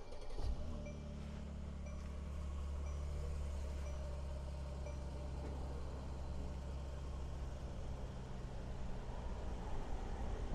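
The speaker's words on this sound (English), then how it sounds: "We're gonna actually get the engine started." A 2018 Mercedes-Benz E400 4Matic luxury wagon engine fires up with a brief start burst, then settles into a steady, low, even idle that holds close and unchanging.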